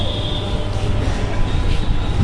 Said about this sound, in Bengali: পরপর ট্রেন ছেড়ে চলে গেল।